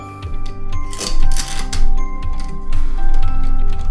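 Phillips screwdriver turning the mounting bolts of an Elemake smart door lock, giving steady, close mechanical ratcheting and clicking with repeated short grinding turns throughout, no voices.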